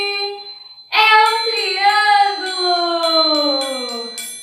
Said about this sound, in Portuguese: O passarinho hoje trouxe um triângulo